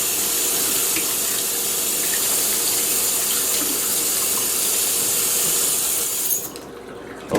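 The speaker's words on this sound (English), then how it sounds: "Wash my hands here with soap because if you handle raw chicken" Hands washed with soap under a running kitchen sink tap, a steady close hiss of flowing water that holds for several seconds and then shuts off abruptly near the end.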